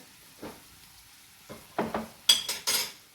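A spoon stirring prawn karahi masala with a spoonful of yogurt in a pan over very low flame, giving several clinking scrapes against metal that grow louder and quicker toward the end, under a faint background sizzle.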